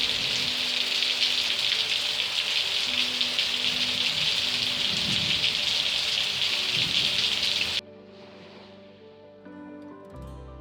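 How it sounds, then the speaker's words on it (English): Heavy summer rainstorm pouring steadily, a dense loud hiss of rain on surfaces for several seconds before cutting off abruptly to a quieter background with faint tonal sounds. "But of course it wasn't all sunshine, we had storms too."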